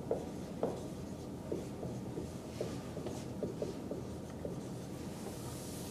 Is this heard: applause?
no